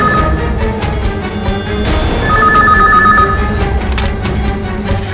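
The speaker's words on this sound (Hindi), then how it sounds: "इस वक्त कौन फोन कर रहा है?" A telephone rings repeatedly in a tense domestic scene, its bell tones sounding over a dense layer of dramatic background music and ambience, with no speech.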